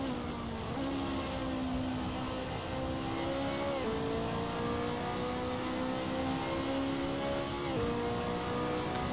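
Race car engines roar through gear changes at Monza in the Assetto Corsa sim, climbing in pitch in long pulls with a shift roughly every four seconds, loud and continuous with no talk.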